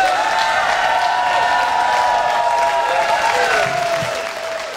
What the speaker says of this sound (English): A round of applause for Jess.